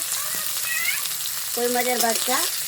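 Small puti and koi fish frying in hot oil, a steady close-up sizzle and crackle running throughout, with a voice speaking briefly over it.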